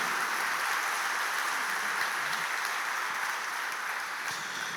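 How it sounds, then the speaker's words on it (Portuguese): Church congregation applauding during a sermon, a steady wash of many hands clapping at moderate distance, sustained and even throughout. "Dá um aplauso bem forte a Jesus."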